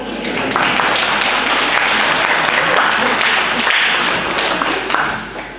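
Audience in a village club at an opening celebration bursting into sustained applause, dense and close, holding for several seconds before tapering off at the end.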